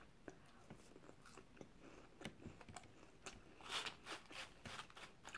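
Crunchy seaweed snack being eaten up close, a series of sharp crisp bites and crunching chews, quiet and irregular, loudest near the end.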